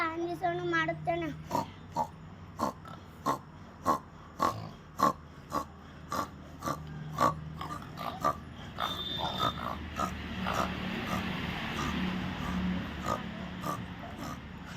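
A first-grade schoolchild mimics a pig with a quick run of a dozen or so short, clipped snorting grunts at close range, then trails off into breathy noise.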